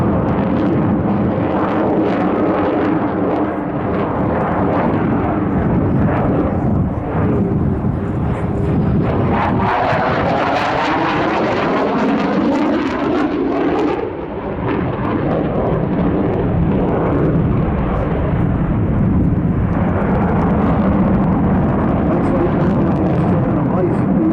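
An F-15 fighter jet flies high-G manoeuvres at an airshow. Its loud, rumbling thunderous roar rises and falls with sweeping doppler shifts over roughly twenty seconds, and people talk over it.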